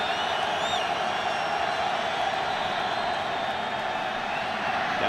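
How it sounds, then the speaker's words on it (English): A football stadium crowd during Broncos versus Chiefs roars steadily to back the defense on third and long, a continuous loud wash of voices with faint whistles, no clear talk over it. "Crowd trying to help the defense on 3rd and long"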